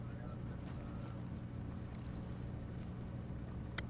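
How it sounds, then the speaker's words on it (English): Tank engine in the WWII video game Hell Let Loose, a steady low rumbling drone that holds throughout, fairly loud and continuous with faint wind-like noise on top and no speech. "That's a tank, that's a tank, that's a tank!"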